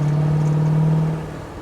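A 1929 Ford Model A hot rod with a 327ci V8 breathing through three carburetors revs up close and loud, holding a steady droning pitch before easing off near the end.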